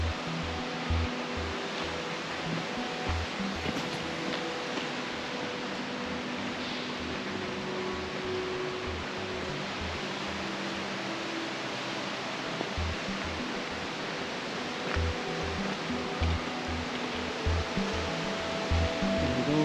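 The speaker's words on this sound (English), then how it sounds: "So I can hear running water." Steady, broadband rush of running water from an underground waterfall inside Yordas Cave, a constant wash of sound filling the whole stretch with no voices.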